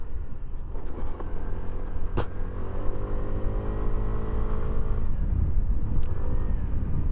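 Hero Xoom 160 scooter ridden off-road, its engine humming steadily with rising and falling revs and rough bumps and clatters, close and continuous without talk.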